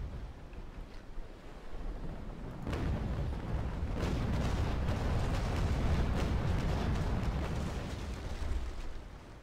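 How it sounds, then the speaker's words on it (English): A sailing warship's cannon volley in Naval Action rolls out as a long, deep rumbling roar that swells after a sharp onset and lingers for several seconds amid wind and sea noise. "So we'll fire off a volley here against,"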